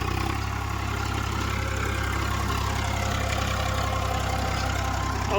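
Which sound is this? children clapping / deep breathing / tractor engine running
tractor engine running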